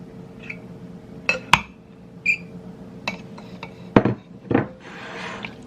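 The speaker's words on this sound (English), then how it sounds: "now I'm going to put the potatoes back in" Potatoes are tipped back into a pot of chunky potato cheese soup with corn and bacon, making scattered clinks and knocks of utensils against the pot and soft rubbing and sliding sounds, close and sporadic with no talk.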